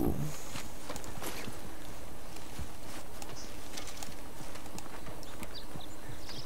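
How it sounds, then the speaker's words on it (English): Hooves of a wild horse in Red Dead Redemption clop steadily on the ground in an uneven walking rhythm, fairly close, over a soft background hiss. "That's a wild horse."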